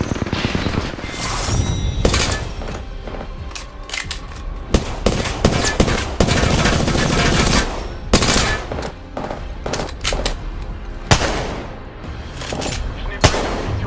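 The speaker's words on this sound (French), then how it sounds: "L'ennemi me tire dessus." Rapid bursts of gunfire from the video game Apex Legends, dense overlapping shots and booms, loud and continuous with sharp peaks throughout.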